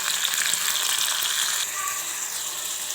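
Garlic, green chillies, onion and tomato pieces frying in hot oil for dal rasam give a steady, close, loud sizzle that drops slightly in level partway through, with no talking.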